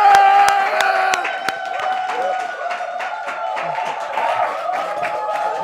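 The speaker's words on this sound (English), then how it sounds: "Please, a round of applause for Senator Shehu Sani in the building" Studio audience applause and cheering for Senator Shehu Sani on a comedy talk show, scattered claps and crowd noise over steady background music, moderately loud throughout.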